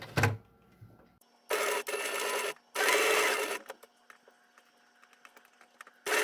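Sewing machine stitching a fabric face mask, starting with short back-and-forth backstitch bursts, then two longer runs of rapid mechanical whirring separated by pauses, close and moderately loud.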